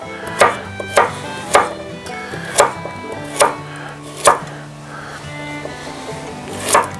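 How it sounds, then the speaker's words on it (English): A knife rough-cuts skin-on carrots on a board for a campfire Dutch oven meal, giving about seven sharp, evenly spaced chops that land close and loud over a low background hum. "We're going to rough cut some of these carrots"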